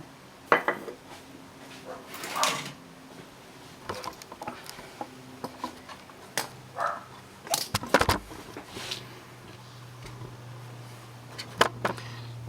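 Dishes clattering in a home dish rack: scattered clinks and knocks of plates, cutlery and glass at irregular intervals, fairly quiet with a few sharper clanks and a low hum beneath.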